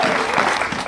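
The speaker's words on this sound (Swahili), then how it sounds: "Pigeni Bwana makofi kwa ajili ya utukufu wa jina lake" A church congregation claps together during a special service of repentance, a full, loud burst of applause filling the short moment with no pauses.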